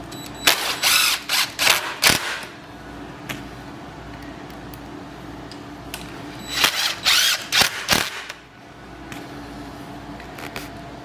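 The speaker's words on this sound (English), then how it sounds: "Be sure you got pressure down when you tighten them so you don't wring the heads out on these." A power driver tightens stainless Phillips screws, giving two clusters of short whirring bursts with a dull, quiet gap between them, close up and without talking.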